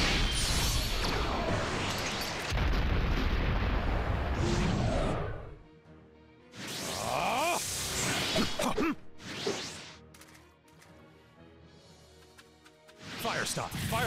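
In the Naruto x Boruto Ultimate Ninja Storm Connections video game, fireball jutsu blasts roar as a loud, sustained burst of fiery rushing noise, then give way to shorter whooshing impacts mixed with spoken voices.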